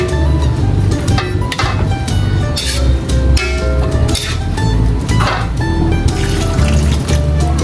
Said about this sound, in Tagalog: Ito pong ating santol ay lalagyan ko na po ng pangalawang gata.